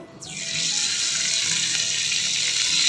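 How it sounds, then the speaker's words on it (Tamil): Ghee or butter tempering with curry leaves and a pinch of asafoetida crackles as it hits cooked, mashed dal, a sudden loud sizzle that bursts in and then holds as a steady, close hiss. "தாளிப்பு சேர்த்துக்கலாம்"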